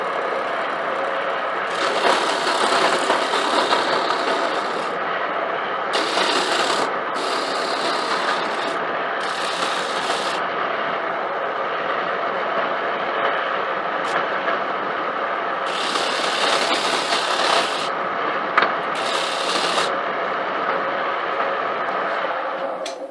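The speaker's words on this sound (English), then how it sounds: "Now we'll use the disc grinder I finished the other day to round over the edges and fix the ends" A homemade disc grinder rounds over the edges and squares the ends of a wooden holder for forstner bits, giving a steady, close whirring grind with intermittent harsher rasping bursts as the wood meets the disc, and no talking.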